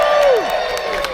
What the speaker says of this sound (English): Give us a cheer if you are a returning princess guest.